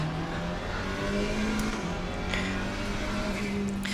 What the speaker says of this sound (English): Oh, listen to that turbo.